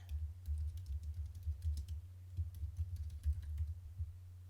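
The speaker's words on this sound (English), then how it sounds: "So I'm going to type in" Typing on a computer keyboard, quick irregular clicks of keys pressed in bursts, close and fairly quiet, with no voices over it.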